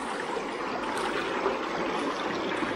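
Water flows steadily and strongly through a stream at Healey Dell, a constant close rushing wash with no breaks or talk.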